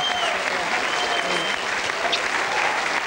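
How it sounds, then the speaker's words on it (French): A television studio audience applauds after a song, a full, sustained wash of clapping with faint crowd noise that holds evenly throughout. "Vous pouvez l'applaudir encore."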